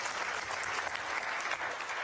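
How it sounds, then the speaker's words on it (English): Dense audience applause at a U.S.–Mexico agriculture secretaries' roundtable, a short, steady burst of many hands clapping at full strength from start to finish. "Clap for that."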